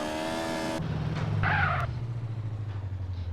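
A motorbike engine in the GTA video game buzzes with a bright revving tone, then drops to a low, steady rumble with a brief higher blip. It sounds close and moderately loud, with no talking.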